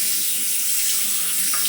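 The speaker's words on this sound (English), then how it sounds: "so I'm just gonna wash it underwater, make sure some of that powder is off" Tap water running steadily into a bathroom sink to rinse a Razorock Game Changer .84 safety razor, a loud close continuous rushing splash with no voices.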